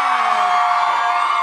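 A crowd at a pop-up event cheers and whoops in one sustained, high, bright wash of voices. It stays loud and steady the whole time, with no separate speech standing out.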